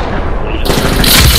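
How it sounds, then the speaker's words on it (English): Mortar explosions in multiplayer Medal of Honor Warfighter, a loud, harsh continuous blast and rumble lasting barely over a second, with the roar brightening and growing heavier partway through. "Who's popping the mortars?"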